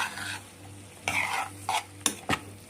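Alexandrian-style liver frying with garlic in oil in a pan, a soft steady sizzle broken by several sharp scrapes and clinks of a utensil stirring against the metal, close and clear with no talking.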